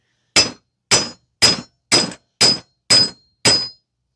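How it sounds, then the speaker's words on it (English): Seven sharp metallic clangs from hammering out a Toyota wheel bearing with an adapter-kit driver, evenly spaced about half a second apart, loud and close with no talking. "I'm just going to use something like this that I have from my adapter kit and just hammer it out from there."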